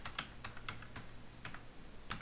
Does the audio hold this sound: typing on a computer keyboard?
yes